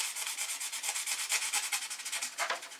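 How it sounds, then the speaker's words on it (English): Foam board surface scuffed before gluing, a rapid rhythmic rubbing and scraping close by, steady and fairly soft, with no talk. "what I find is you have to scuff both the"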